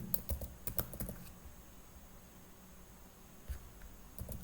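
Keys tapped on a computer keyboard while writing markdown in a Jupyter notebook, a quick cluster of clicks at the start, a quiet pause, then a few more taps, faint and close.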